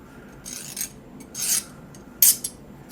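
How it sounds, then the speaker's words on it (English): A hand file drags across a hardened steel bushing in a few short, rasping strokes, each a bright gritty scrape, the last sharp and loud, with near silence in between. "If you hit this with a file, it will score the file."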